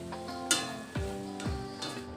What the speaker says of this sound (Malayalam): എല്ലാം കൂടി ഒന്ന് ഇളക്കി കൊടുക്കുക.